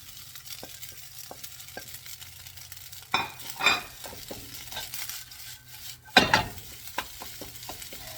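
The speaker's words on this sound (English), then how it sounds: "now I'm going to add in the vegetable" Vegetables and rice stir-frying in a hot pan, a steady sizzle with utensil scrapes and two louder bursts of tossing and hissing as ingredients hit the metal.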